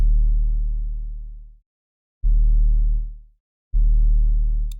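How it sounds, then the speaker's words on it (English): Three deep, clean 808 bass drum hits, each a sustained low boom that slowly decays before the next, alone with no other sounds. "This is just the sound of the first 808 I used."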